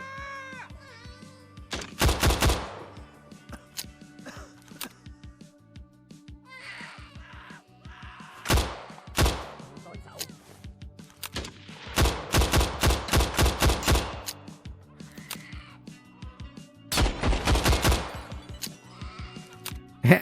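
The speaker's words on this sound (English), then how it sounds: "windows breaking, bullets going through frames" Gunfire crackles in the VR shooter Better Than Dead, with rapid bursts of shots and shattering windows as bullets punch through frames, arriving in several loud clusters separated by quieter stretches of ambient game sound.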